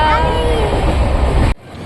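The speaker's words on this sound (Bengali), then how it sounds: "অনেকক্ষণ হলো আমাদের ট্রেনটা ছেড়ে দিয়েছে" A moving passenger train from Howrah toward Digha fills the cabin with a loud, steady rumble and rattle, with faint voices mixed in, before the noise cuts off sharply near the end.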